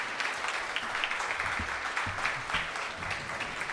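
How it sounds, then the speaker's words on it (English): Audience applause at a live debate event in Los Angeles, dense and steady for several seconds at moderate volume as a man walks up, with no one speaking over it. "He needs a long applause."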